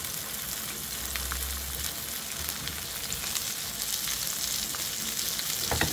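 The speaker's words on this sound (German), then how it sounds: "Und die lasse ich einfach so ein bisschen anbraten." Food frying in a pan during a home cooking show, a steady, close crackling sizzle that continues throughout.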